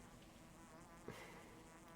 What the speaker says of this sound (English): The buzzing is really killing me here.